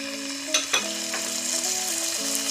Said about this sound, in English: we're just going to saute that for about 1 minute